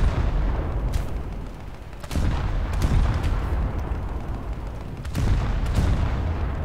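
Naval 5-inch gun turrets firing in War Thunder: a series of heavy, sharp booms at irregular intervals, roughly six shots, over a constant low rumble of the ship and sea, with no talk.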